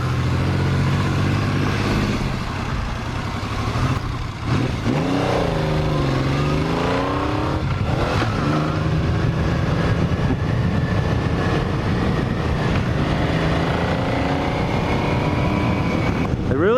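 A 1980 Yamaha XS850 Special motorcycle engine runs and revs while being ridden, a steady drone rising and falling in pitch with wind noise, fairly loud throughout.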